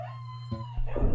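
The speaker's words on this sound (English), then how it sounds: "Oh, bloody dogs. Always ruining the atmosphere." Dogs howl in the background, a sustained mournful tone that rises into a louder yelping cry near the end, fairly close and without speech.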